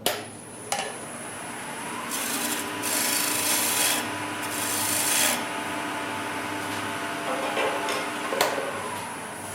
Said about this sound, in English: I'm going to use the skew on its side, just essentially as a negative rake scraper, to just take a tiny bit off of there